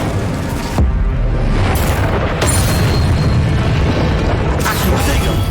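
Fiery spell blasts from the Incendio fire charm in the Hogwarts Legacy video game, a loud continuous roaring boom with sharp bursts flaring through it, heavy low rumble, and voices speaking over the combat.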